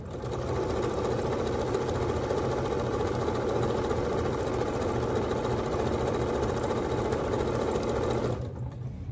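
A sewing machine stitches a scrap quilt with a steady, fast mechanical whir and needle chatter that runs continuously for about eight seconds, then stops abruptly.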